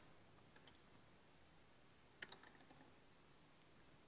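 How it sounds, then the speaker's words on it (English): Sparse, quiet keyboard clicks tapping out a few keystrokes, with a short burst of several quick taps in the middle, close by in a quiet room. "start typing"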